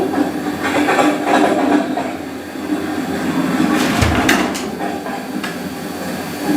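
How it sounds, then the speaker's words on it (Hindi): Steady rolling rumble of a train on the rails, broadband and continuous with a few brief rattles and clanks from the carriage near the middle, no voices. "ट्रेन ने रफ्तार पकड़ी"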